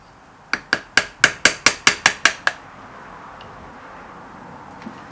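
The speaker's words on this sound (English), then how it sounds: "Let's begin chipping that out." A hammer chips out the haft for a millpick in a run of about ten sharp, evenly spaced strikes, close and loud, then quiet.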